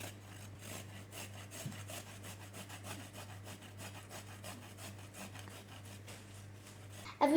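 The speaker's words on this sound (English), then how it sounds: "Slant the ginger grater thingy, or whatever it's called, up like this and start grating the ginger." Fresh ginger rubbed across a ginger grater, producing rapid repeated rasping scrapes in a steady back-and-forth rhythm, close and moderately quiet, with a faint low hum beneath and a brief louder knock at the end.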